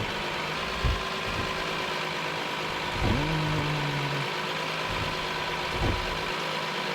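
A car engine idles in the video game Streamer Life Simulator, a steady mid-pitched rumble with a few soft knocks and clunks spread across the stretch, and no one talking.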